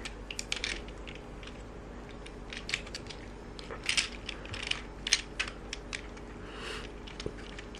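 Plastic feet on a Toyworld Orion (OrionVil) transforming robot figure are folded down, giving quiet, scattered small clicks and snaps at close range over a faint steady background hum, with no talking.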